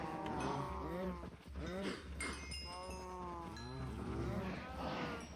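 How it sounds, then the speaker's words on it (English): Minecraft cows mooing in the video game, several drawn-out low moos overlapping and repeating one after another over a steady background of game ambience. "We're gonna kill all the cows after this."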